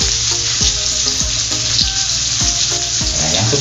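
Shrimp hit a hot pan with sautéed garlic, onion, chili, pepper and ginger, setting off a loud, continuous sizzle and frying crackle with scraping stir strokes recurring every half second.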